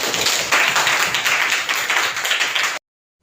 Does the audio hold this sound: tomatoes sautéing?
no